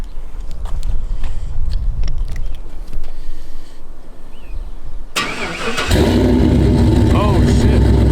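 A GMC Sierra Denali with a 5.3 V8 and a loud exhaust cranks and fires up after a stretch of voices and rustling. It settles into a loud, deep, rumbling idle close by.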